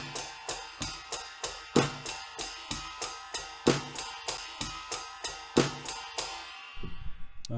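Drum set playing a steady waltz beat in 3, kick on the downbeat followed by two hi-hat strokes, with occasional snare hits; clear regular strikes, close and alone, ending with a ringing decay.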